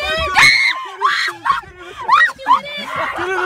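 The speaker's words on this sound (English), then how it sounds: "Stop screaming, guys!" A family screams as a bison approaches at Yellowstone National Park, several loud, close, high-pitched shrieks in quick bursts, mixed with excited voices.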